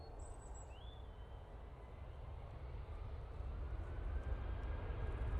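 Virgin airliner landing at Manchester Airport, a distant broad jet roar that builds steadily over several seconds, heard alone in the open air.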